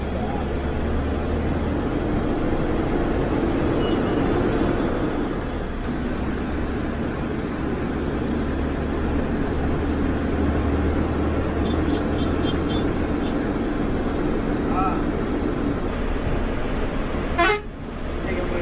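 A National Travels bus pulls away from its first boarding stop on the Thiruvotriyur to Alangulam route, a steady low engine rumble filling the cabin throughout, with a horn tooting briefly near the end.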